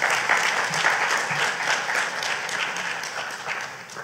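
An audience at a distinguished lecture gives Robert Branch a round of applause, with sustained, evenly textured clapping throughout that tapers slightly toward the end.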